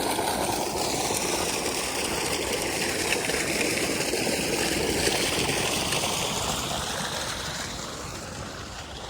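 Water gushes steadily from an engine-driven tube well pipe, a loud continuous rushing roar with a low mechanical hum underneath, fading slightly at the end.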